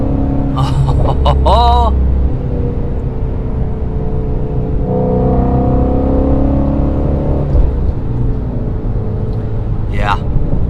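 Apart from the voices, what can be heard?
Ford Mustang Shelby GT350 engine revving while driving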